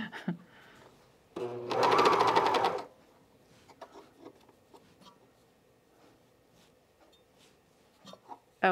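Cover stitch sewing machine fitted with a binding attachment running through fabric in one loud, rapid mechanical burst of about a second and a half, with quieter handling noises before and after.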